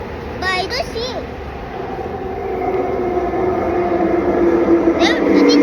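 A train approaches a station platform in Kuala Lumpur, its rumble rising gradually from distant to near and loud, while an adult and someone talk over it at the start and end.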